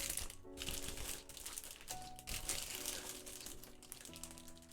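The sealed plastic bag from a Tamiya 1/20 Ferrari F1-89 640 Formula 1 model kit crinkles and crackles as it is handled and opened, steady close rustling with some faint tonal hum underneath.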